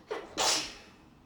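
One person sneezes in a room during an exercise class, a short intake followed by a sharp, breathy burst that fades quickly.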